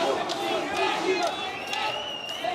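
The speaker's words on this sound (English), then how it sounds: "And the crowd once again raising their voice." An arena crowd at an Oktagon MMA fight roars and cheers in a steady swell of voices, loud and continuous.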